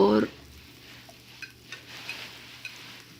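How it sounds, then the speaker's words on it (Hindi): Chopped onions fry in oil in a pan for kadhi pakora, a soft, steady sizzle with a few light clicks of a utensil, after a brief voice and clatter at the very start. "पैन में हमने तेल डाल दिया, और तेल में आधी गड्डी भरी कटी प्याज की"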